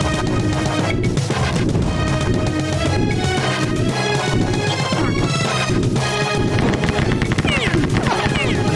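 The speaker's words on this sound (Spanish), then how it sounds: "Me llegan los balazos de aquí." Rapid gunfire and crashing impacts in the Xbox Series X shooter Rise of the Triad: The Hunt Begins, loud and continuous, overlapping a dense game soundtrack throughout.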